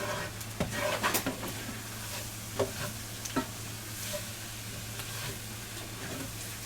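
Flour stirred and fried in a pan for a pot roast: a steady close sizzle with repeated scraping spoon strokes over a low hum, and no one talking.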